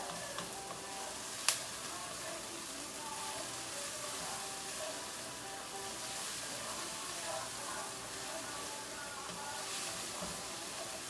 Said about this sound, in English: I'm just going to saute this until the onion is soft